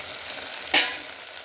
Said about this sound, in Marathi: फोडणी आपली छान अशी होते